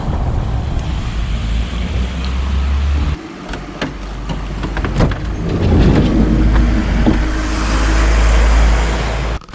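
Car driving off along a city street in Neukölln, a steady loud engine and road rumble near the microphone that dips briefly and then swells again as the car gets moving.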